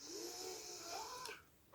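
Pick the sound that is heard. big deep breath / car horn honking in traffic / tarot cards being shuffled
big deep breath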